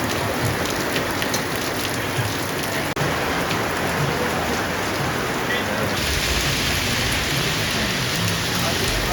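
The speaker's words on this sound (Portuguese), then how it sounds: "o bom é que chuva de verão passa rápido" Summer rain falls steadily in Portovenere, Liguria, a dense, loud hiss of drops on surfaces that continues unbroken throughout, with one brief dropout partway through.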